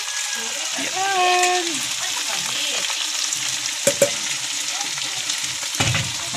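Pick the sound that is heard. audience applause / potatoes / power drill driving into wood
potatoes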